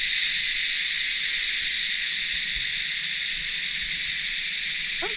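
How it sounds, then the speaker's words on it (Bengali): Mountain crickets on a hillside trek in North Bengal keep up a dense, continuous high chirring that stays steady and fairly loud throughout, with a few soft low thumps beneath it and no talking. "এই হলো পাহাড়ি ঝিঝি পোকার ডাক।"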